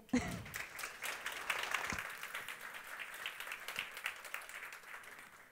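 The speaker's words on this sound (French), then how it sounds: "Merci de l'applaudir." Audience applause for a speaker at a talk, faint and distant, swelling after a sharp initial thump and then thinning to scattered claps.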